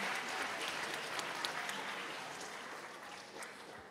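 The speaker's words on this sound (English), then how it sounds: "Give yourselves a round of applause," Students clapping together at an elementary school moving-up ceremony, a steady wash of applause from a crowd that holds for several seconds at moderate loudness and tapers slightly at the end.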